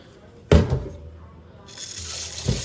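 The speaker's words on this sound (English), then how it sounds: "I'm just rinsing off the rice here. Straining the water." Water splashes and runs as rice is rinsed and strained in a home kitchen, with a sharp clatter near the start, steady running water across the middle and a second knock at the end.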